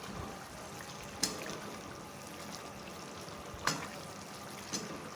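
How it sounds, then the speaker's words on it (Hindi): Mutton liver (kaleji) roasting and frying in a pan, a steady soft sizzle with a few sharp clinks of a utensil against the pan, no talking. "अब इसकी भुनाई का टाइम आ गया है।"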